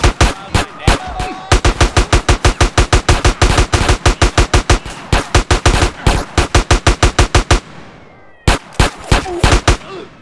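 Sustained automatic machine gun fire in GTA San Andreas: loud, rapid evenly spaced shots in long bursts, a brief pause near the end, then another short burst.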